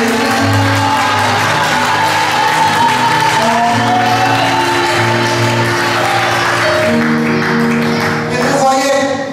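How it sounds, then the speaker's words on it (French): Church congregation cheering, whooping and applauding in acclaim of the Lord during a Sunday service, loud sustained crowd noise with clapping and shouts, with music and voices running underneath. "Si tu écoutes, acclame le Seigneur."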